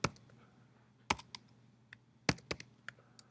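Typing on a computer keyboard at a Unix terminal, with short bursts of close, quiet key clicks and pauses between them.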